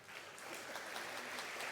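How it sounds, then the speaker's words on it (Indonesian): A church audience at a Parents' Day service claps for children after they sing and perform movements. Brief, soft, dense clapping is heard from a distance for under two seconds. "Tepuk tangan dong."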